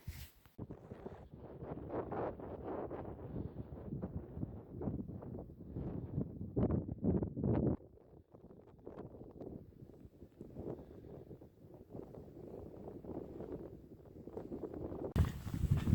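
Wind at the summit of The Cheviot in Northumberland, a continuous rough buffeting roar across the microphone that eases briefly midway and then returns.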